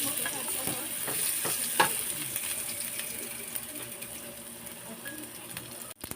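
Cooking oil heats and sizzles in a pan as a coconut-milk vegetable dish with squash is prepared, giving a soft, steady frying hiss with a few scraping stirs and clicks.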